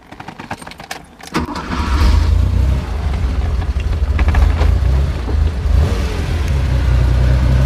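Keys jingle briefly before the air-cooled engine of a 1979 Porsche 911SC Targa cranks and fires up, then settles into a loud, steady, throaty idle close by.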